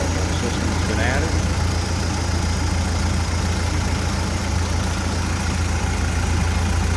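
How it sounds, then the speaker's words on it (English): The engine of a 1930 Ford Model A pickup runs steadily at idle, a low constant hum with an even, smooth rhythm and a faint high whistle briefly appearing, no talk over it. "nice smooth running engine"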